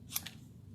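Two quick snips of scissors cutting paper, close and crisp, in a quiet room with a faint background hum.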